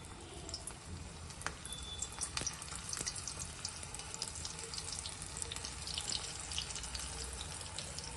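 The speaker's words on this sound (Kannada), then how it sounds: "ಸೊ ಇದನ್ನ ಇವಾಗ ಎಣ್ಣೆನಲ್ಲಿ ಡೀಪ್ ಫ್ರೈ ಮಾಡೋಣ." Spring rolls deep fry in hot oil with a continuous close, bubbling sizzle, a dense steady hiss scattered with small crackles and pops that holds even throughout and has no speech over it.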